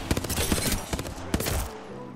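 Rapid automatic gunfire in Apex Legends, loud dense bursts of shots rattling close up with a brief gap before a second volley, fading into game ambience at the end.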